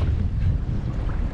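Strong wind buffets the microphone aboard a small fishing boat in rough weather with whitecaps, a loud continuous low rumble of gusts and water with no speech.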